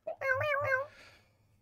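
A cartoonish cat in the video game Sludge Life lets out a close, drawn-out meow with a voice-like, wavering pitch. A short opening yelp comes first, then the meow fades into quiet.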